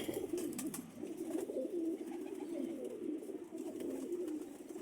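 Teddy and French pigeons coo continuously, a low rolling murmur of overlapping calls held close by for several seconds, with faint clicks above.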